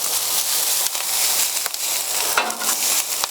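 Fried rice stirred on a very hot flat-top griddle sizzles steadily, with scraping spatula strokes and a few sharper clicks cutting through the continuous frying hiss.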